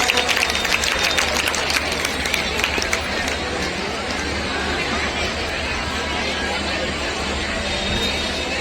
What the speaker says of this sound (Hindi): एक बार जोरदार मैं चाहूंगा तालियां हो जाए इनके लिए